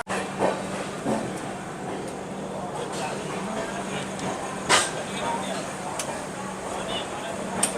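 A train rolls along with a steady rumbling hum and occasional clanks and clicks of the wheels, heard from inside a first AC carriage of the Delhi–Mumbai Rajdhani Express departing Jhansi station after rain.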